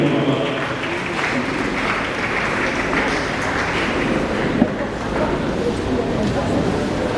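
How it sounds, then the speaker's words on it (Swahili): Audience at a gathering applauds in steady, dense clapping that fills the space for several seconds with a murmur of voices underneath. "hii makofi kwa mara nyingine"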